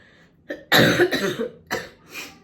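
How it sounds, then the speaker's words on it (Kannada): Several dry, harsh coughs from dust irritation in quick bursts, close and fairly loud, with short pauses between them. "ಡಸ್ಟಿಗೆ ಫುಲ್ ಕೆಮ್ಮಾಗ್ಬಿಟ್ಟಿದೆ, ಡ್ರೈ ಕೆಮ್ಮು"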